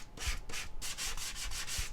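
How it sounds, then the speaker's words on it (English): Light, rhythmic rubbing strokes of sandpaper along the edge of a paper playing card, about eight quick passes in steady succession, soft and close with no talking. "I think it's going to be just fine with just a tiny bit of sanding"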